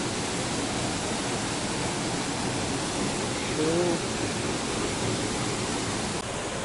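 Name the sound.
waterfall flowing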